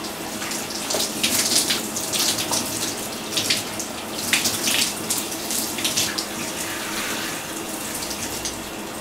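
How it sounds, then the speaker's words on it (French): Water runs steadily from a tap while hair is rinsed, a continuous close hiss with irregular splashing and spattering surges throughout. "je vais pouvoir rincer mes cheveux"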